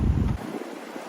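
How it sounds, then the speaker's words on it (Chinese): The snowmelt-fed Ili River at Nalati in Xinjiang, flowing down from the Tian Shan, gives a steady broad rush of water, with a heavy low wind buffet on the microphone in the first moment before it eases. "这条是伊犁河还是什么河呀？"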